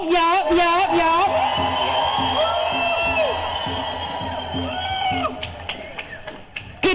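Crowd cheering and whooping for a senator at a No Kings protest in Houston, loud and sustained with high whoops and a rhythmic chant-like pulse, a voice carrying over it on a PA.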